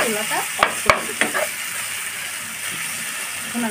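A pumpkin and raw mango mash stirred in a hot pan, with sizzling and steam hiss broken by a few sharp utensil knocks against the pan early on.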